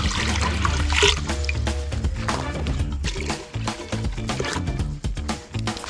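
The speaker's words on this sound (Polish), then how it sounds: "do kociołka wlewamy wodę" Water pours steadily into a metal cooking kettle for pea soup over a campfire, with a trickling splash under a busy background of music-like tones, running continuously throughout.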